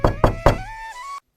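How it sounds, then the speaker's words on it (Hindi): Three firm knocks sound on a house door in quick succession, loud and close, followed by a sustained tone that cuts off abruptly. "वेदांत के घर का दरवाजा बजाने लगते हैं"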